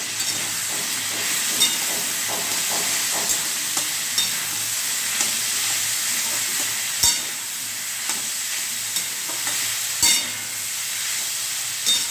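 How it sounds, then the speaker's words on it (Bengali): Potatoes and cauliflower fry in a pan with a steady, moderately loud hiss and sizzle, broken now and then by small pops and stirring clatter, with no voices. "আলু ফুলকপি ভাজা"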